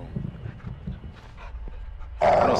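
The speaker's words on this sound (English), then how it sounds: "Dog in the bedroom." A dog inside a bedroom in the Modern Warfare 2 campaign, giving a few short barks and whimpers at moderate volume, then a sudden louder burst of game noise near the end.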